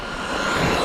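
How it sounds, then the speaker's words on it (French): An electric RC model vehicle motor runs on a 3S lipo battery, overheating as the battery fades. It gives a brief, close, steady whirring whine with a slight rise in pitch. "Le moteur est surchauffe."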